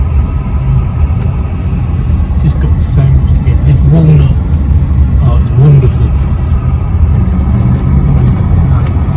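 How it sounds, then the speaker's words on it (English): A Bentley Brooklands Turbo's V8 engine gives a steady, loud low rumble from inside the cabin while someone talks over it throughout. "You can really hear that V8, that rumbling growl."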